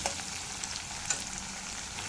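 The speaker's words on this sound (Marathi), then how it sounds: "आता इथे मी मिरची कढीपत्ता कोथिंबीर फोडणीला घातलेला आहे" Chillies, curry leaves and coriander sizzle steadily in hot tempering oil for a puffed-rice chivda, a close, even crackle with occasional sharper pops and no voices.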